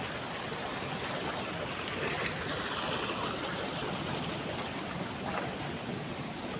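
Water running through a canal near Gangu village, Taxila, in hilly countryside: a steady, dense rushing wash that stays even and fairly loud throughout, with no voices over it.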